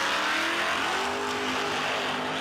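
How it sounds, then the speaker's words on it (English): Jim Treat's Evans Flooring sponsored drag car from Effingham, Illinois, launches wheels-up at a no-delay nationals event, a loud close roar that rises steadily in pitch as the engine accelerates down the strip. "Wheels up and out like a rocket ship for Ricky Thomas."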